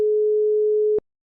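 A telephone ringing tone while calling someone: one steady, clean electronic beep lasting about a second, then silence.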